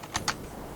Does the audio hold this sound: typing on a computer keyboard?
yes